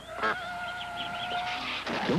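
Ducks quack in an insurance commercial, a loud, close run of nasal honking calls that fills the whole short span with no talking.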